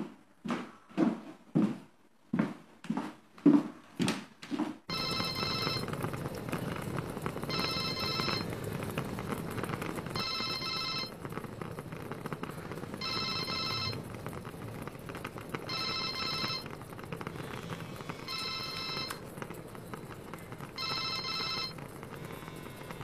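A telephone rings in a quiet indoor room, a regular series of electronic ringing bursts repeating about every two seconds over a low steady background hum, preceded by a few soft knocking thuds.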